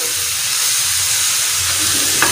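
Spiced keema minced meat frying on a hot tawa gives a steady, loud, close sizzle with constant hiss throughout, and a brief scrape of stirring near the end.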